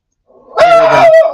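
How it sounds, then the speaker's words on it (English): A dog lets out one loud, drawn-out bark with a howling edge, close by and over quickly. "The dogs are barking."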